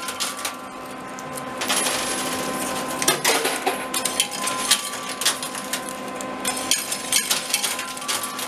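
Coins clatter and drop continuously inside an arcade coin pusher machine, with many small metallic clinks and rattles over a steady mechanical background hum, fairly close and busy throughout.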